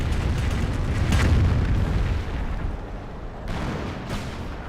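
Rocket barrage in the game Company of Heroes, a string of heavy booming explosions rolling together loud and close, then easing into thinner blasts and rumble toward the end.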